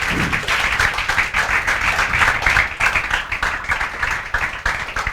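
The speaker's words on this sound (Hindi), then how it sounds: "सबसे पहले क्षितिज पाल के लिए जोरदार तालियां बजाओ।" Loud, sustained clapping for Kshitij Pal from students in an Indian calculus class, a dense, vigorous roar of many hands filling about five seconds at close range.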